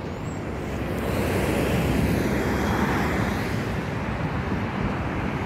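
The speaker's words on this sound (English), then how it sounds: "Oh wait, it's 787 again." A Boeing 787 airliner passes overhead during plane spotting, a broad, loud jet roar that swells and then holds as a steady rumble, with no voices.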